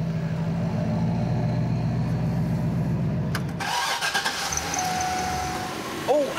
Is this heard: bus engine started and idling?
yes